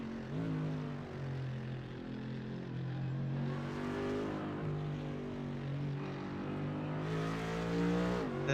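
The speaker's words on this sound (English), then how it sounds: "That AMG roar" A V8 race car engine in a sim racing game at Belle Isle, its roar rising and falling through several gear changes, loud and close and heard alone.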